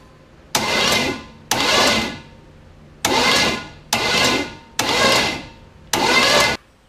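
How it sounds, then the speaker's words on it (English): A Chevrolet 5.7 small-block V8 in a 1980 Camaro is cranked over by the starter in six separate bursts of about a second each, with short pauses between, loud and close, with no voices. "So let's turn this engine over."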